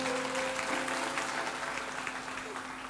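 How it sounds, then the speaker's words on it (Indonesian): A church congregation claps continuously at a moderate distance, the applause blended with sustained organ or keyboard tones underneath. "kasih tepuk tangan bagi Tuhan Yesus"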